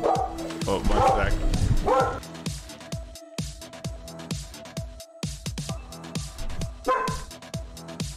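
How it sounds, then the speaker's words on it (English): A pet dog barks and yips repeatedly in loud, close bursts, then lets out whining whimpers, with a person talking over parts of it. "sorry about my dog"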